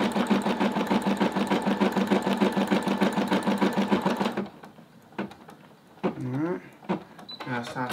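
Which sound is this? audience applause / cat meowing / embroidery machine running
embroidery machine running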